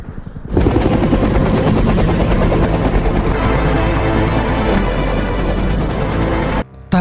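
Helicopter in the zombie film Army of the Dead, its rotor thumping loud and close in a dense, continuous roar for several seconds before cutting off abruptly near the end, with no voices.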